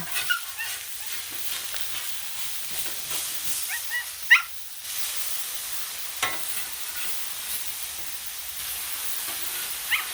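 Smash burgers sizzle on a Blackstone griddle as they are flipped, with scraping and a steady hiss, while a dog barks nearby now and then.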